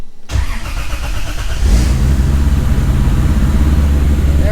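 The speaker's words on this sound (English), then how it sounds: "So right now we're just gonna start the car up real quick." A 2JZ-swapped Nissan 240SX cranks briefly, then fires up into a loud, steady, rumbling idle close to the microphone, with no talking.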